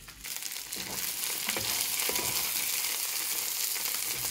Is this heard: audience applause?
no